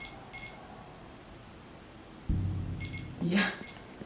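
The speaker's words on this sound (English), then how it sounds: "What do the beeps mean?" Short electronic beeps from a handheld device used on a ghost hunt in a reportedly haunted asylum ring out faintly a few times, with people talking quietly nearby.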